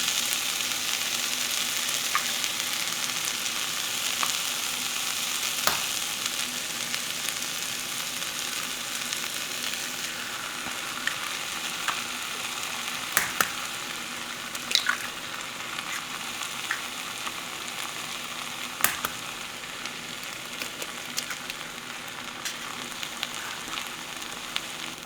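Four eggs frying in a pan on low heat, giving a steady, close sizzle throughout with occasional small pops and clicks of a utensil, and no talking.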